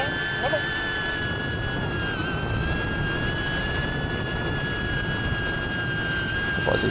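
A flying drone gives off a steady, loud whine with sustained high tonal hums that hold throughout, heard up close outdoors while a person talks over it.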